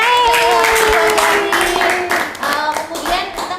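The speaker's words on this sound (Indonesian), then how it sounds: "Tepuk tangan dong untuk" Audience clapping at an Indonesian school foundation event in Jambi, steady and fairly loud for the whole stretch, with some crowd voices and a voice mixed in.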